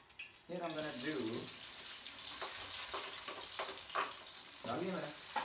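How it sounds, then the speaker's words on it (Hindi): Chopped onion dropping into hot oil for a home-cooked daal, a steady close hiss and sizzle with a few louder spits and stirring clatters, and a voice talking over part of it. "जब ये ठापड़ की आवाज़ आएगी ना तो इसका मतलब है कि ऑयल गर्म हो चुका है, प्याज डालने का की बारी आ गई है"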